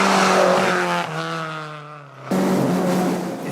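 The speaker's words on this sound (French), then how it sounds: "Ça vibre, ça bouge, le moteur hurle, on a l'impression d'être assis dessus." Abarth 131 rally car engine roaring from inside the raw, uninsulated cabin, loud revs climbing in pitch, a brief dip as it shifts, then surging again hard and close.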